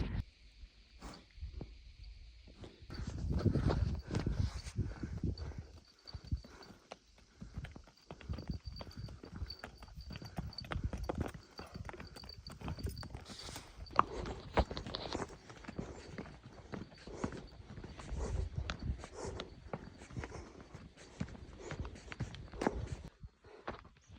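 Horse hooves clip-clop steadily on a snowy mountain trail in Pakistan during a ride, with a quick, uneven rhythm that stays close and fairly prominent over soft ambient noise.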